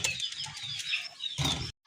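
Domestic pigeons, a Bangladeshi deshi pair kept for sale, flap their wings in a close flurry of soft fluttering beats lasting well over a second, followed by a brief second burst before the sound cuts off.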